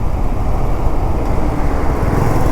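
A road vehicle rolls past on a highway in sweltering heat, heard as a steady, loud low rumble of engine and tyre noise throughout with no voices.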